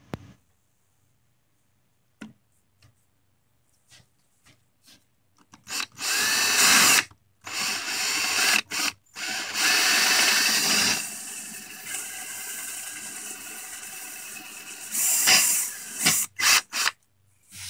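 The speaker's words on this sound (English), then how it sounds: "he's going to get out his drill and start drilling" A handheld power drill bores into a pinball playfield in several sustained, whining runs separated by short pauses, loud and close, with occasional clicks and no voices.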